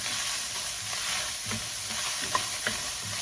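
Onions frying in a pan for kohlrabi poha, a steady close sizzle with a few light stirring scrapes and taps.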